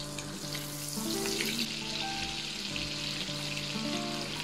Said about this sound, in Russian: Разогреваем сковородку. Добавляем растительное масло, кусочек сливочного масла для вкуса.